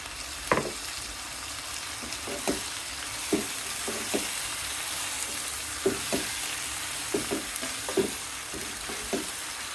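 Sliced bitter gourd frying in a pan, a steady hiss of hot oil with periodic scraping stirs of a spatula at regular intervals.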